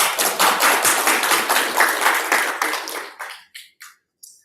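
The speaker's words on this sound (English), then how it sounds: "I will give a round of applause to them anyway" Audience applause at a web.lab 2023 final ceremony, a crowd clapping steadily and fairly close, then thinning into a few scattered last claps before silence.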